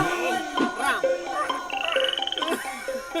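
A voice imitates a frog, giving a rapid series of warbling, croaking calls up close, loud and alone, with the throaty croaks speeding into a quick pulsing run near the end.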